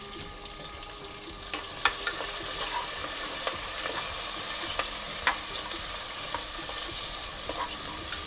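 Chopped onion sautés in a pan with a constant dense sizzle and occasional spatula taps and scrapes, close and fairly loud, with no voices.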